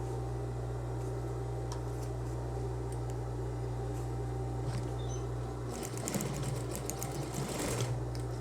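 Sewing machine stitching a satin robe belt loop, sewn twice for reinforcement. A quiet, steady mechanical whir with a low hum runs throughout and turns into a faster, denser rattle toward the end.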